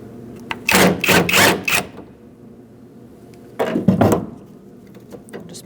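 A lock cylinder is worked out of a 2004-2012 Chevrolet Colorado tailgate, giving two close bursts of rattling, clicking metal-and-plastic handling noise separated by a quiet pause.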